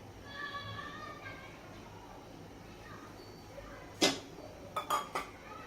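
A ladle adds oil to a wok heating on the stove, heard as a few sharp metallic clinks, one then a quick cluster of three, against a quiet kitchen background.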